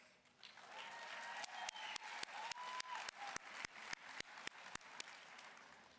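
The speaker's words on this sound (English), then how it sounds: "A big round of applause for the end of tuition bills." At a 2019 university business and nursing graduation ceremony, the audience breaks into applause. It is fairly quiet and distant, a continuous crowd clapping that builds up with crisp, regularly spaced louder claps on top.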